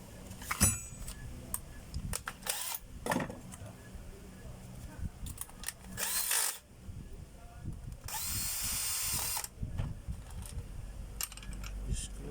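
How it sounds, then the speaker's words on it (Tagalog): A power drill driving a screw during a repair job, several short whirring bursts of varying length with metallic clinks and handling clatter between them, close by; the longest run of the drill comes near the end. "ayan, ikot screw."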